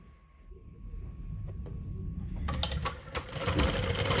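A Jack industrial sewing machine stitching a programmed pattern starts quietly, then breaks into rapid mechanical stitching bursts with rhythmic clattering that grows louder toward the end.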